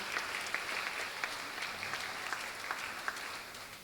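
A round of applause from the crowd at a Philippine Weekend Tiny Tots pageant evening, somewhat distant and soft, with individual claps popping out of a steady, even patter.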